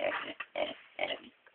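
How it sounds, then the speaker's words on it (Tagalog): Pig grunting and snorting up close in a few short, rhythmic bursts separated by brief pauses, faint overall and with no talk. "Baboy na to, ma?"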